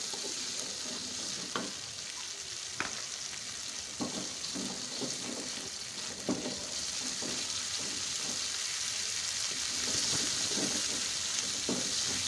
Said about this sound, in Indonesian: dari lengkuas, daun salam dan juga bumbu ulek kita goreng-goreng, kita tumis dengan menggunakan api yang cenderung kecil